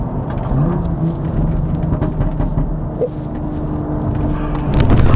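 A BMW M2's turbocharged N55 engine pulls hard under acceleration, a loud continuous roar with rising pitch heard from inside the car, swelling louder at the end.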